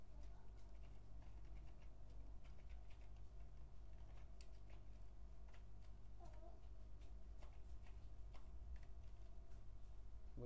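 Steady, quiet keyboard typing made up of soft, fast clicks and ticks spread across the clip, with no talking over it, set against a constant low background hum.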